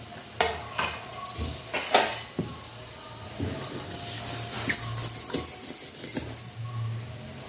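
A knife chopping corn cobs into small pieces in a home kitchen, giving a series of close, uneven knocks and thuds on the board, some sharp and some softer, with faint clatter in between.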